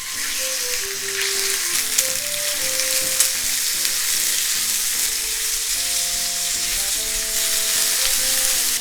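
Steady loud sizzling of beef frying in a hot oiled pan for niku udon, a continuous hiss with occasional pops and scraping, no talking.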